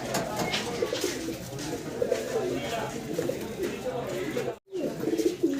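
Pigeons coo in low, throaty, repeated rolls close by, several birds overlapping in a continuous murmur, with people talking over them at a pigeon seller's loft.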